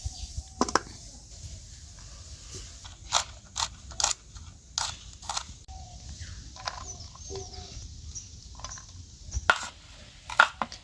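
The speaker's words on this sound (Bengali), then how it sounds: "এখানে দুটো পেঁয়াজ কুচি করে নিচ্ছি।" Knife chopping onions on a board in a home kitchen, a run of quiet, irregular sharp taps in small bursts with pauses between, over faint background hum.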